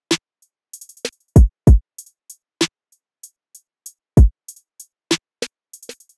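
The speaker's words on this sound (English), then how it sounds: "Then I added a second snare" A second snare layered into an R&B beat built from one-shot samples in FL Studio, heard alongside a kick and crisp hi-hats. The hits land in a steady groove with short, sharp transients and no voices.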